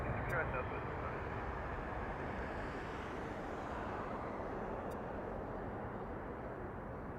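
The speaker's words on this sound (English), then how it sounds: "this is gonna be a Boeing 737 MAX 8" A United Boeing 737 MAX 8 airliner at Las Vegas airport gives a steady, broad engine roar that holds at an even level throughout, heard from a distance with no voices in the foreground.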